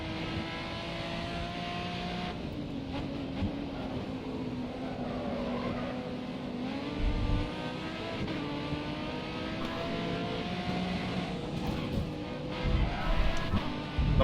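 Racing car engine in the Grid Autosport video game, a steady droning whine with shifting pitch running throughout, fairly loud and continuous with a few louder surges near the end.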